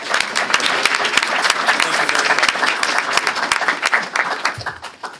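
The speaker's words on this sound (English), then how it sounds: "we share, again, a round of applause" A room full of people applauds loudly and steadily, then the clapping tapers off. A voice speaks briefly under it.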